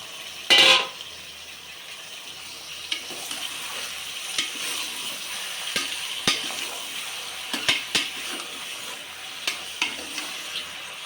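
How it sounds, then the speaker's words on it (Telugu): Goat tripe (boti) cooks in hot oil in a pot, giving a steady sizzle broken by scattered stirring clicks and scrapes, with one sharp, loud burst near the start. "ఇది నూనెలో ఉడకనిద్దాం బోటీలో ఉండి వాటర్ వస్తుంది"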